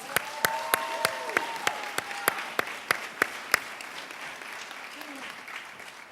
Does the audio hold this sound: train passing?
no